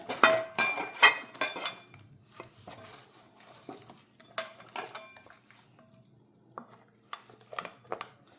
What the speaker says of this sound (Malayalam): ഇതോടെ നന്നായി ചേർത്തിളക്കി വെക്കുക.